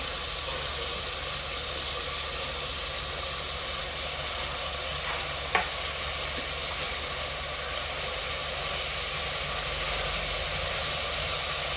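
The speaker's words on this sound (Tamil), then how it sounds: "ஹை ஃப்ளேமில் வச்சு நல்லா வதக்குங்க." Onions and green chillies sauté in a pan over a high flame, giving a steady, even hiss with no talking and one brief tap partway through.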